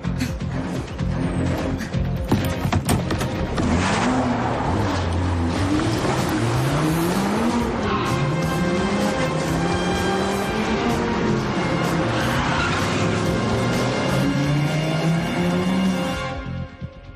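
A car drives hard with skidding tires, loud and sustained, its engine note swooping up and down in wavering pitch alongside tire squeal and rushing noise for over fifteen seconds.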